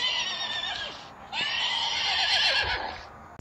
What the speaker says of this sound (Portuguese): Bem, vou colocar o som do cavalo pra vocês aqui. É o som de um cavalo.